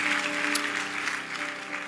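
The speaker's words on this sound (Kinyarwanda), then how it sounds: "Mukoma amashyi menshi cyane ku mubyeyi wacu." A congregation at a church memorial gathering claps in a dense, steady burst of applause that holds at an even level for the short moment without a break.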